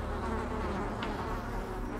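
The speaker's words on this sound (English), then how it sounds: "Why do you hear bees? They're mosquitoes." Mosquitoes buzzing in the video game Darkest Dungeon, a steady droning insect whine that runs continuously under low game ambience.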